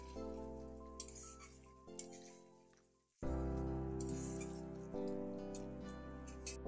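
Chopped green chillies tumble into a pan of sizzling chicken tarka, the steady frying hiss jumping louder after the addition, with a few soft stirring taps over the sizzle.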